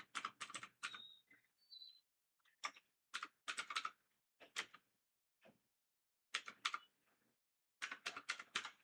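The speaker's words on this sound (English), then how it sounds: "randomly I'm just typing one finish here" Keys on a computer keyboard clatter in short uneven bursts of quick taps separated by pauses, close and fairly quiet, with no talking.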